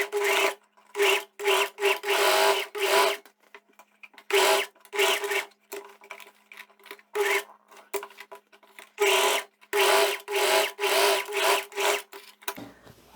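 A sewing machine stitches a seam along the center back opening of a viscose-linen jumpsuit in loud, close, rhythmic bursts of rapid whirring, broken by short pauses, with a dull thump at the very end.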